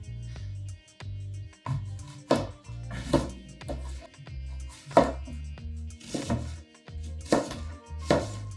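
Apples being cut and peeled for Waldorf salad, a rhythmic series of knife thunks on a cutting board, close and clear, with brief scraping sounds between strikes.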